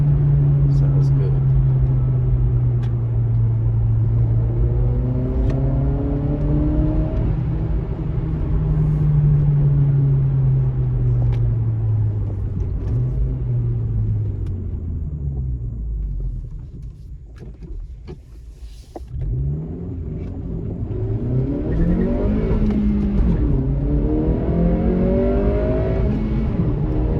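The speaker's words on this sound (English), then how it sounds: "Really hear that intake. I love it. It's got a nice deep pitch to it." A 2023 Acura Integra accelerates with a deep intake drone rising in pitch through the gears, easing off briefly, then building again; a voice talks over parts of it.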